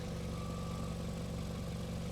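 A car engine idles steadily at the exhaust pipe of a rebuild project car, a continuous low rumble close by with no talk over it.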